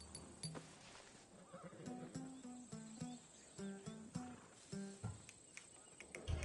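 In the Assassin's Creed Odyssey video game, a horse gives a few faint neighs and snorts over crickets and ambient game sound, with some hoof clops.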